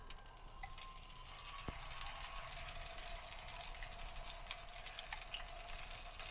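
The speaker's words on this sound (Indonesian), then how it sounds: "Sekarang kita bisa tumis sebentar bumbu yang sudah dihaluskan ini." Ground spice paste for asam pedas fish sautéing in hot oil, a faint continuous hiss and crackle heard steadily and evenly throughout, with no talk.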